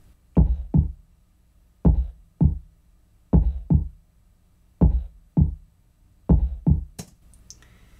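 Soloed heartbeat-style kick drum playing a steady pattern of paired low thumps, five double beats evenly spaced, loud and dry with nothing else beneath them.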